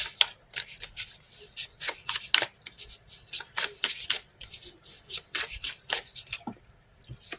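Tarot cards are shuffled close up in repeated quick riffling bursts, each a crisp papery flutter with short pauses between, and no other sound stands out.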